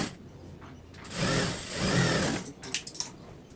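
An electric sewing machine stitches a chudidar sleeve, whirring in two close bursts of fast running stitches, then a few short clicks as the fabric is handled.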